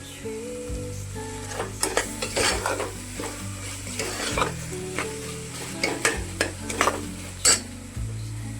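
Ginger garlic paste roasts in a pan with a constant close sizzle while a spoon stirs and scrapes against the metal in repeated knocks.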